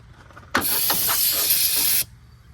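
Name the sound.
brake cleaner spraying from a can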